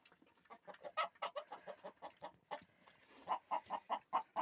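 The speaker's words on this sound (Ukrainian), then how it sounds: "Сама стара курочка." An old hen clucks in a farmyard, a quiet series of short, rhythmic clucks that grows a little louder and more regular toward the end, heard alone.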